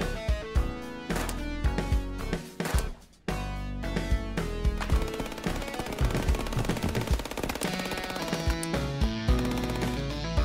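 Rapid automatic gunfire from an online multiplayer first-person shooter game fills the scene, dense bursts cutting through loud game music and effects, with a brief drop near the middle before the shooting resumes.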